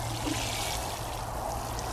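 Water pours steadily from a garden watering can fitted with a large rose while celery and beetroot are being planted, a continuous close, even shower with no break and no voices.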